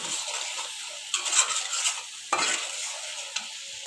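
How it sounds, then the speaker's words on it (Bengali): Spice paste with ground nuts stirred and fried in a pan for chicken korma, a steady soft sizzle broken by a few sharp scraping strokes of the spoon, close and moderately quiet with no talk. "দেখতে পাচ্ছ মশলাটা ভালো করে কষিয়ে নিছি।"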